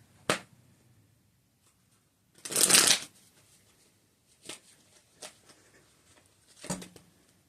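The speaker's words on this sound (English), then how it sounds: "Let me go ahead and shuffle." A deck of tarot cards being shuffled in several separate bursts, one long riffle in the middle and shorter flicks around it, close and crisp in a quiet room.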